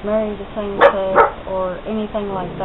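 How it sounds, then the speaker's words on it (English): A dog barks a few times nearby, loud and yappy, while a person keeps talking over it. "That's my dog in the background barking at my other dog"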